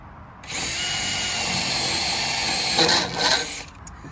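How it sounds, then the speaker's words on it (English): A power drill bores holes in kayak and motorcycle gear, giving a close, loud, steady whine that starts suddenly, runs continuously for several seconds with a couple of brief surges near the end, then stops. "So we've drilled our holes."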